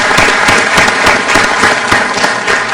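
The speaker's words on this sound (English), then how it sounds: "Let's give them a big round of applause." A round of audience applause in a county commissioners court, close and loud, with many hands clapping in a busy, uneven patter that stays strong throughout.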